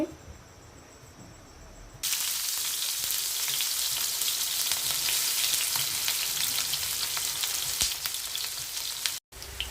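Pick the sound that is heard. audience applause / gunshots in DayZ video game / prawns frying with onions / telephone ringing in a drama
prawns frying with onions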